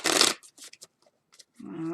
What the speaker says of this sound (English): Let's do a real good shuffle